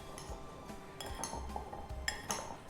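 Sweet potato chaat is mixed in a bowl with a spoon, giving soft, quiet clinks and light scraping against the bowl at irregular intervals, faint and close, with no voices.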